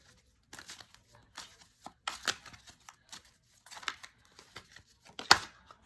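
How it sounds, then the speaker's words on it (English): Tarot cards are shuffled in short bursts of riffling and sliding, with quiet gaps between them and a sharper snap near the end. The sound is close and dry, with no talking. "And I go back to shuffling the other way."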